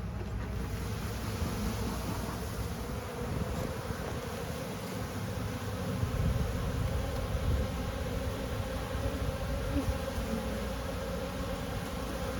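Honey bees buzz steadily inside an opened beehive packed with sugar feed, a continuous dense hum filling the scene at close range with no talking.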